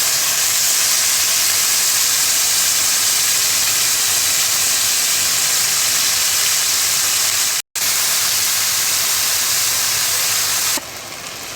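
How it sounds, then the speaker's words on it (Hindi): Pieces of beef steak fry in hot oil with a loud, steady, close sizzling hiss that carries on evenly, broken once by a brief cut and dropping a little quieter near the end. "ऑयल हल्का सा गर्म हो गया था, इसमें ये पार्चे रख रहे हैं हम।"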